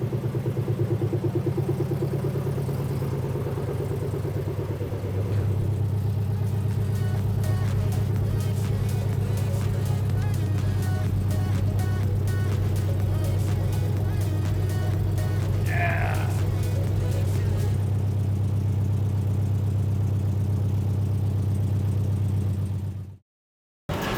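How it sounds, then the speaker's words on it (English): A swapped-in Nissan VQ40 V6 running in a 2005 Nissan Xterra, idling loud and steady throughout with a low, even drone and a faint rise partway through, then cutting off abruptly at the end. "we got the new engine in. It is running."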